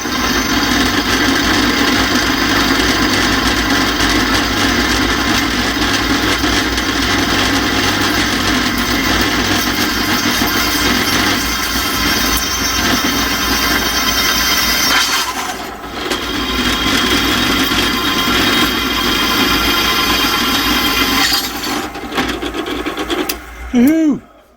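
A power drill whirs continuously into an engine stand, a steady high-pitched motor drone that falters briefly near the middle and stops with a short squeak at the end.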